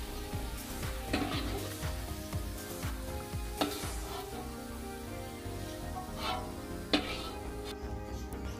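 Spices for Coto Makassar seasoning sizzle steadily in a pan, the crackle of frying oil continuous throughout while a spoon scrapes and knocks against the pan every few seconds as they are stirred, close up with no talk.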